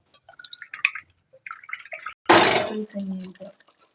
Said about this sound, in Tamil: புளிக்கரைசலை ஊற்றிக்கிறோம்